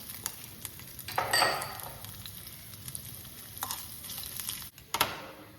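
Ginger pieces frying in a little oil with a steady sizzle, punctuated by scraping and metallic clinks from a utensil against the pan, close and moderately loud.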